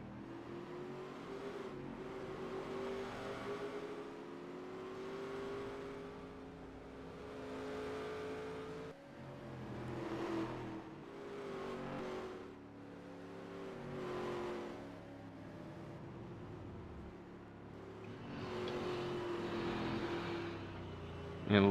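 A race truck drives down pit road during a US Bank 137 event at the Charlotte Roval, its engine droning steadily at moderate volume with shifting pitch and revving, under race commentary.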